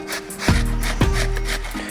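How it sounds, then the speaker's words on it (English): Tough green plantain rubbed against a grater makes two loud, close scraping strokes about half a second apart over a low background hum. "So I'm going to use this grater"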